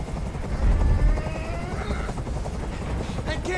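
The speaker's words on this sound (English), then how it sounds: "Tell that helicopter to get out of here!" A helicopter hovers nearby in a steady low chop, with scattered electronic game effects and some speech-like sound mixed through, from the video game Detroit: Become Human.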